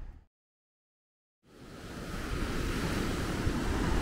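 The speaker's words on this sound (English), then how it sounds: "Waves are a little smaller today, which is nice." Ocean waves break on a shore in Huatulco, Mexico. After a brief silence, a broad rushing roar of surf swells up and holds steady, loud and close, mixed with wind noise.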